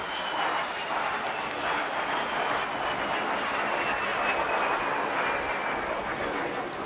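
A de Havilland Vampire jet with its twin tail flies along the seafront at Clacton Airshow, its engine a steady broad roar held at a distance for several seconds, with a commentator faintly audible underneath.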